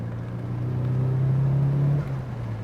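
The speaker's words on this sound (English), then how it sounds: "Oh, the back end slipping out the way that 180s do." Nissan 180SX driving with its back end slipping out, a close, steady engine hum that swells and then drops off near the end.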